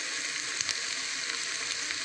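Chillies fry in a pan with a light salting, a soft, steady sizzle with a couple of small pops, heard alone.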